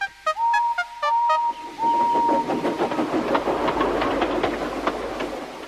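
A steam tank engine pulls into a station: short whistle toots and a held whistle note, then rhythmic puffing chuffs and clattering wheels that slow and fade into hissing steam.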